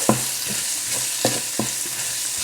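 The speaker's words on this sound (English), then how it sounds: "Now let's just saute this all together." A spoon stirs a pot of seasoning and tomato paste sautéing over steady sizzling, with a few distinct scrapes and knocks spread across a couple of seconds, sounding close and clear, with no talking.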